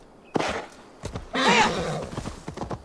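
A horse in Assassin's Creed Valhalla gives a loud, close whinny with clopping hooves around it, the neigh swelling in the middle of a short burst of game sound.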